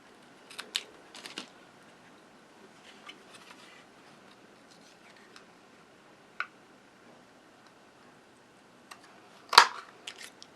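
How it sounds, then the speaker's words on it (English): Scissors trim paper to make a small banner for a handmade greeting card, a few soft, quiet snips and clicks scattered across the quiet room, ending with one sharper close cut. "I'm going to snip it off a little bit shorter."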